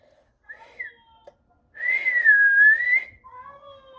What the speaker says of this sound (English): She brought her fingers to her lips and let out a piercing whistle.